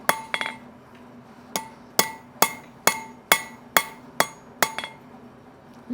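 A hammer striking hot steel on an anvil while flattening a forged drift, a series of about a dozen loud ringing blows with a double tap at the start and steady spacing after.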